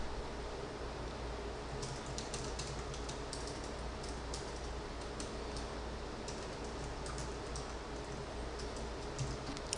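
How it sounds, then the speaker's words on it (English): Text being typed on a computer keyboard, rendered as quick, light clicks in short bursts over a constant background hiss, fairly close and quiet, with no voices. "type some text"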